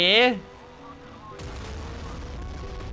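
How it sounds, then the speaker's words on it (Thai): Heavy naval guns of the battleship USS Missouri fire in the Modern Warships video game during a Yamato versus Missouri battle, giving a dense rumbling barrage of booms after a brief tonal sound, with a game soundtrack and effects beneath. "มิซูรี่ยิงรอเลยอะ"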